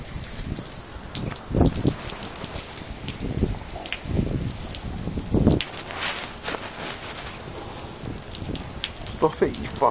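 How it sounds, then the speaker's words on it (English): Rain pours outdoors during a flood in Modbury, a broad steady hiss with scattered close patters and rustles, while people talk intermittently nearby. "Being rained on too much."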